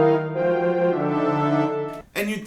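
An orchestra plays a sustained chord with every part untransposed, so the instruments clash in harsh dissonance. The chord holds steady for about two seconds before a brief break and a second burst.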